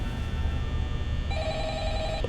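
A telephone rings in the Five Nights at Freddy's video game, a steady electronic trill that starts partway through over a constant low background hum, with no talking.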